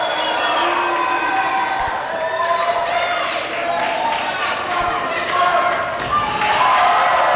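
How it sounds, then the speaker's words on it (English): A large crowd at a professional wrestling event cheers and shouts continuously, filling the arena with dense roaring noise, with occasional thuds and a commentator's voice talking over it. "acknowledging the cheers of the crowd"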